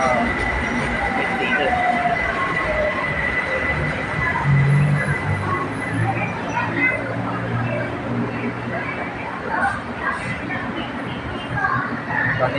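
BTS Skytrain Silom Line electric train at platform 3 of Saphan Taksin station in Bangkok, a steady loud rumble of the train moving along the platform with a brief squeal, heard close and continuous with some faint voices nearby.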